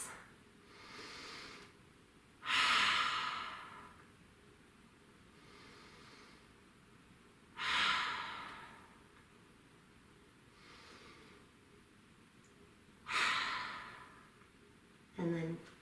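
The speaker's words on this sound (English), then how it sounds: "Give me 3 more breaths." Slow, audible breaths during yoga practice, a few long exhales in a steady rhythm several seconds apart, close and soft over a quiet room with faint rustling.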